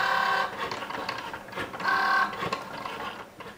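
Cricut cutting machine running, a close mechanical whirring and buzzing in repeated motor bursts with gear-like rattles, two louder passes standing out.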